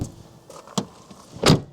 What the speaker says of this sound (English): So let's close up the doors